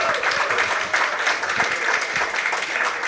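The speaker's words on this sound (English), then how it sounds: "Another round of applause." A crowd at a live Diaspora Dialogue event applauds after a band performance, dense, even clapping sustained throughout, loud and close with no breaks.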